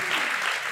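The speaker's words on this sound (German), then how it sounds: "Nie enden wollender Applaus." Theater audience in Cologne breaks into sustained applause at a Christmas special show, a dense, steady wash of clapping filling the hall from start to finish with no pauses.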